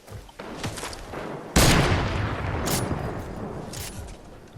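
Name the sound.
gunfire in Fortnite video game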